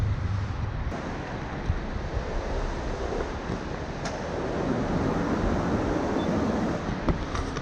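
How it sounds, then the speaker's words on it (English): A warm water fountain splashes in a continuous rushing wash of water, with some wind buffeting the microphone and a few light knocks. "this warm water fountain in front of me"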